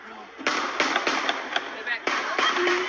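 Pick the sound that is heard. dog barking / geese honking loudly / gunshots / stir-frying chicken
gunshots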